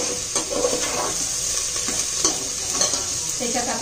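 Chopped onion sizzles steadily in a hot pan while being cooked until translucent for soybean pulao, a continuous close frying hiss with occasional stirring scrapes and no talking.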